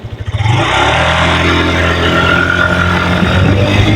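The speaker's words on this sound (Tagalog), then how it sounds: "Papakinggan nyo yung tunog ng makina." A Suzuki Skydrive scooter engine with a factory-defect drive pulley set revs up from a few uneven bursts into a sustained, loud, steady high-idle drone with a rattling edge, close to the microphone.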